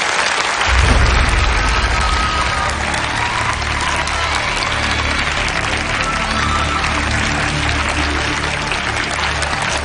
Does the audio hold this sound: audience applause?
yes